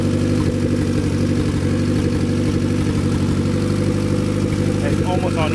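A boosted Honda Accord with an F23 engine idles loudly and close while warming up: a steady, even low rumble with a droning hum that holds throughout.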